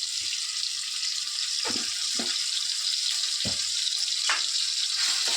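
Garlic and ginger paste fries in a pan for tomato rasam, giving a steady, close hiss of sizzling oil with a few soft stirring scrapes and no talking.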